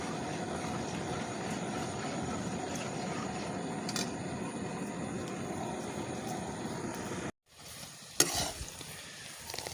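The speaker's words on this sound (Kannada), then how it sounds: "ನೋಡಿ ನಮ್ಮ ಬೆಲ್ಲ ಚೆನ್ನಾಗಿ ಕುದೀತಾ ಉಂಟು" Jaggery syrup bubbling and boiling in a pan, cooked down for a sweet coconut holige filling. A steady, close hiss and sizzle runs continuously, breaks off briefly, then resumes with a light clatter.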